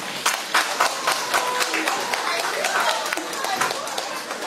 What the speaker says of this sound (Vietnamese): Quý vị muốn vỗ tay nữa thì cứ vỗ tay